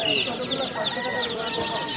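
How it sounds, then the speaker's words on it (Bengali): Chickens clucking at a busy bird and poultry market, including layer hens, a steady run of close, chattering clucks over market bustle throughout. "আর আর আছে লেয়ার মুরগি।"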